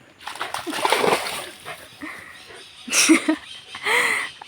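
Two different types of dogs playing in water, with repeated splashing and sloshing bursts, a few short yelps and whimpers, nearby and moderately loud, and no talk.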